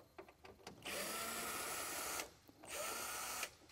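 A power screwdriver backs screws out of the top cover of an Epson SureLab D3000 printer, two sustained close whirring runs separated by a short pause, following a few light taps and clicks of handling.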